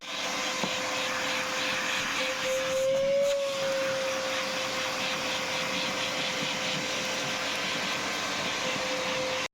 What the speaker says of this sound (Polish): Najpierw wywalam wszystko z worka, bo jest prawie pełny, żeby mocny ciąg był w odkurzaczu.